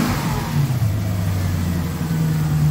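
A Lexus GS400 engine, freshly repaired after misfiring, runs close by with a smooth, steady idle and a slight rise in revs, its even hum continuing with no stumbles.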